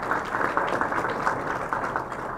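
Steady applause from an audience at a drought workshop in San Benito County, a dense even patter of many hands clapping at moderate volume throughout, no voices over it.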